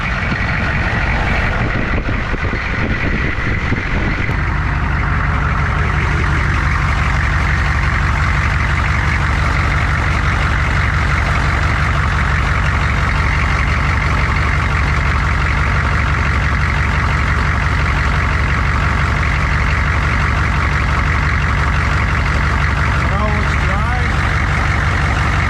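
A 6.5 Detroit diesel truck engine idles with a loud, steady low rumble and a constant drone. It runs close by for the whole stretch and stays unchanged.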